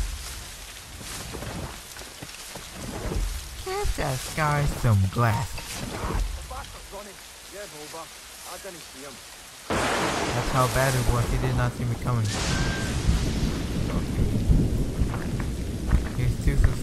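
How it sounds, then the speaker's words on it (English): A storm in Assassin's Creed Rogue: heavy rain pours steadily while deep thunder rumbles and grows louder midway, with someone talking over the downpour. "Storm's getting worse."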